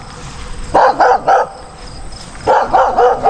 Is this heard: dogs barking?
yes